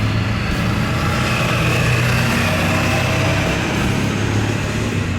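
Ford F-150 bullnose truck with a swapped Cummins 4BT diesel running, a continuous rough low engine drone with steady rumble and busy background noise throughout.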